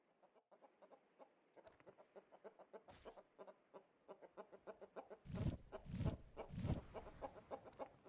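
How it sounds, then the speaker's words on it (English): Chickens cluck in a video game, a steady run of short, evenly spaced clucks over quiet game ambience, then three louder, fuller bursts near the end. "Or chickens."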